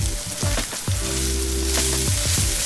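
Macaroni and cheese with beef sizzles and fries in a hot pan, a continuous crackling hiss with a few brief stirring scrapes, close and alone.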